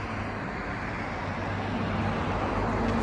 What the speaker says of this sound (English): Sorry for the traffic noise.